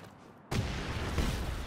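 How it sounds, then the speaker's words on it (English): A sudden loud blast erupts after a brief quiet moment, followed by a sustained rumbling roar of a vehicle explosion in Just Cause 3 with crackling debris. "The explosion it can create."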